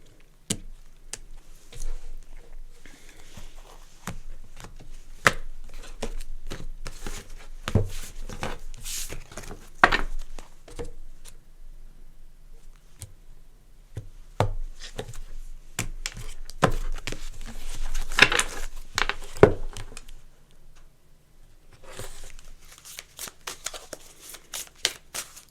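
Tarot cards are shuffled by hand in repeated bursts of soft riffling and slapping taps, close and moderately loud, continuing in uneven spurts with brief pauses.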